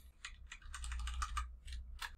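Typing on a computer keyboard while building a website, a quiet burst of about a dozen clicky keystrokes in an irregular rhythm, close and faint over a low hum.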